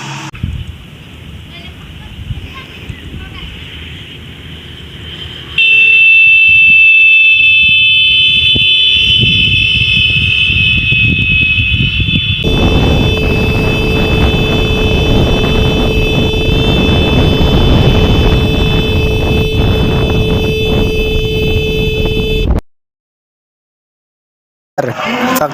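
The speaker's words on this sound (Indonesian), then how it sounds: "uji coba menggunakan klakson motor" A motorcycle horn blares in a long, steady electric tone during a Doppler effect experiment, then its pitch drops sharply midway and holds, over gusty wind noise, before cutting off abruptly.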